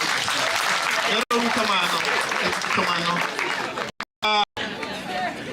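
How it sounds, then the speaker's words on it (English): A crowd applauds steadily at the launch of a German medical school. The clapping is dense and sustained, with a couple of brief cut-outs near the end and some chatter mixed in. "Let us clap for all of them as well."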